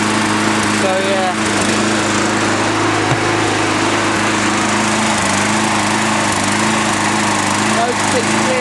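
A Briggs and Stratton MAX SERIES lawn mower engine with a scored piston runs at a steady, loud buzzing drone, close to the microphone and continuous throughout, with brief faint sounds over it.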